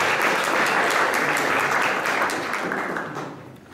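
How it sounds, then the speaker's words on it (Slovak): An audience at an evening talk event applauds a speaker with full, dense clapping that holds strong, then thins and fades over the last second. "A myslím si, že môžete pána Sulíka povzbudiť potleskom."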